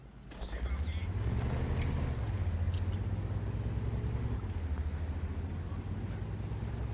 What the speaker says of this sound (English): it comes with such a meaty engine noise